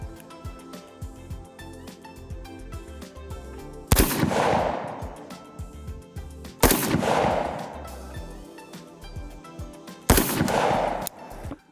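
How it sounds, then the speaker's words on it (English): Three sharp, loud gunshots ring out several seconds apart at a range while a Trijicon RMR Type 2 red dot is sighted in, each with a ringing decay, over faint background noise. "I'm gonna get some shots down range."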